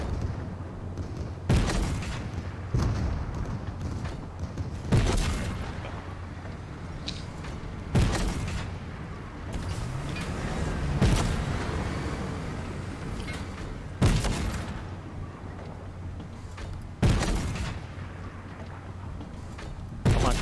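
Gunfire in the Fortnite video game, heard as a string of sharp, loud broadband bursts at irregular intervals of a few seconds, each standing out over a steady background of game ambience.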